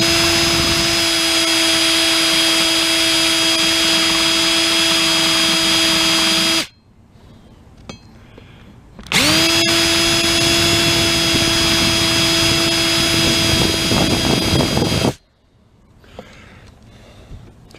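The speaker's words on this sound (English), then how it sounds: "what I'm gonna do is put a little grinder on here, and I'm gonna go at these" Small grinder smoothing a Polaris RZR 800 front end part, two loud sustained high-pitched whining runs of several seconds each, separated by a short quiet gap with light handling noise.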